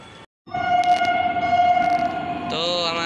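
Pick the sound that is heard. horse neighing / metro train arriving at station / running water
metro train arriving at station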